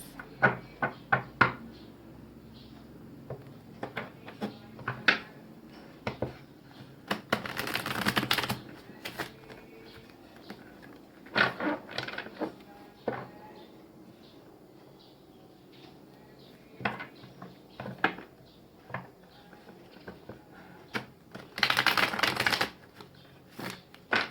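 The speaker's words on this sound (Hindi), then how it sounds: "One more सफलिंग।" Tarot cards are shuffled by hand in short, crisp riffling bursts separated by quiet pauses, with scattered soft taps and knocks of the cards in between, all close and fairly faint.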